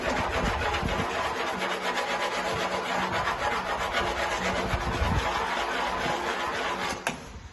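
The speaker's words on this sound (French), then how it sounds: "On ponce la surface du béton pour avoir une surface à peu près propre." Pumice stone rubbing and sanding across a concrete surface, a steady close abrasive scraping that continues without pause, ending with a brief knock near the close.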